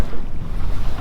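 A boat riding over choppy sea on the Solent, heard as a loud, close rush of wind and water in one brief burst.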